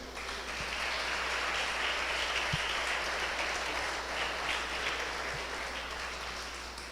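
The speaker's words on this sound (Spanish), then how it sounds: "¿Cuánto le dan un fuerte aplauso a Dios?" A church congregation gives sustained applause, a dense, even wash of many hands clapping at moderate distance for several seconds, with a few soft thumps and no talk.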